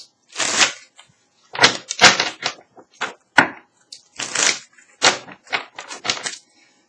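Tarot cards riffle and slap together in repeated quick bursts, close up, with short pauses between each shuffle.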